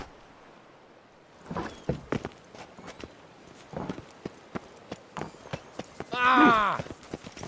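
Roach the horse clip-clops along in The Witcher 3 with irregular hoofbeats close by, and a short neigh follows near the end.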